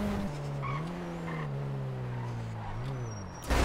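A car in GTA 5 losing its brakes: a sustained engine drone whose pitch wavers and slides, mixed with tire squeal, ending in an abrupt loud burst of noise.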